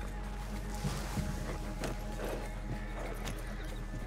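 Horse hoofbeats in the video game Red Dead Online, a steady clip-clop running through the whole stretch at moderate loudness over a constant low game hum, with faint talk in the background.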